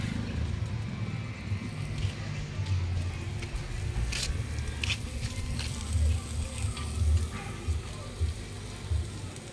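Onions frying for chowmein at a busy street food stall, a soft continuous sizzle with scraping and clatter from the pan, under background chatter and street noise with voices.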